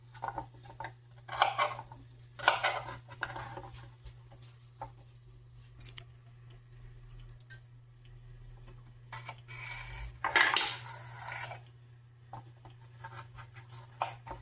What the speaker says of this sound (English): I'm going to cut up 2 pieces of celery